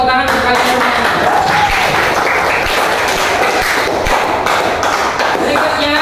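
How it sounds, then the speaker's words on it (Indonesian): Indonesian students clap their hands together in a classroom, a dense, sustained patter of applause filling the whole stretch at a loud, even level. "Beri tepuk tangan untuk kalian."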